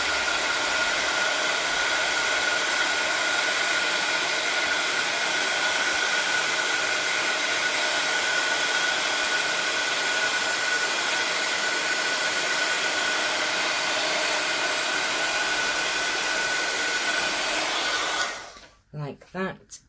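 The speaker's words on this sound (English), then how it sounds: "we're going to take our heat gun and we're just going to set it" A heat gun blows a steady, loud whooshing roar for nearly twenty seconds while setting embossing powder on a stamped Stampin' Up! card, then cuts off abruptly near the end.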